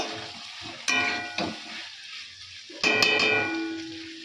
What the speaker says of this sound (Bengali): মাংসটা প্রায় কষানো হয়ে গেছে তো আলুটাও এর মধ্যে দিয়ে দিয়েছি তো আর একটু কষাবো